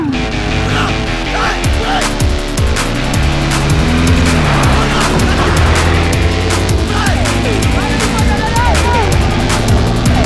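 A car in a Malayalam film scene approaches with engine roar and squealing tires, over dramatic music with voices talking throughout.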